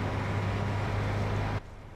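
Tractor engine in Farming Simulator 19 idling as a steady low drone with a strong hum, then cutting off abruptly near the end, leaving a quieter background.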